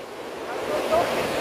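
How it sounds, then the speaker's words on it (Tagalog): Rushing water roars steadily, a broad turbulent wash that swells slightly toward the end, with no clear voices. "Ang lakas ng karit ng tubig, grabe"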